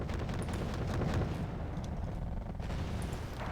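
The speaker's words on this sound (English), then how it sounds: "There's the mortars." Mortar fire in the war game Wargame Red Dragon, a dense rumbling barrage of booms and distant blasts rolling continuously under a loud low roar, with no talking.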